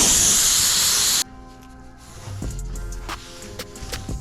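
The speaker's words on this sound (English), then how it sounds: "So right now we're gonna hit it with some compressed air and probably a rag." Compressed air blasts loudly against a carbon fiber car trunk in one steady, intense hiss that cuts off abruptly, followed by quieter workshop rustling and light knocks.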